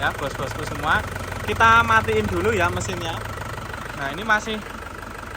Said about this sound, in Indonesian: mesinnya masih stabil banget, tidak goyang ya